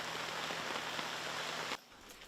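Heavy morning rain in Mauritius pouring down on surfaces, a dense even patter that stops abruptly near the end.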